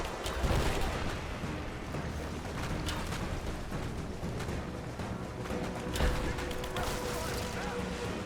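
Steady crackle of gunfire and scattered blasts in the Rise of the Tomb Raider video game, a dense continuous firefight with occasional louder hits, mixed under talking voices throughout.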